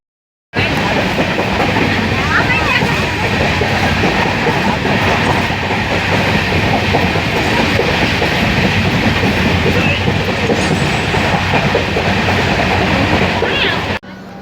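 A passenger train rumbles along the rails with a steady clickety-clack, loud and continuous from close by, fading out at the very end.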